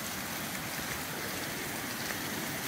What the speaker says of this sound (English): They mentioned the waterfall.